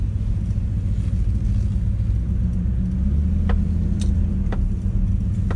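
A 1971 Cadillac Eldorado Convertible engine idling, a steady, loud low rumble heard up close, with a few faint clicks over it and no voices.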